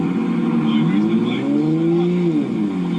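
A Toyota Supra's engine revving nearby, a loud droning tone that climbs and falls in pitch over a few seconds.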